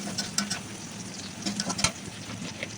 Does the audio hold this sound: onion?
yes